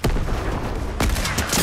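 Loud gunfire in the Fortnite video game, a sharp sniper rifle crack at the start and another heavy blast about a second later, each ringing out over continuous game noise.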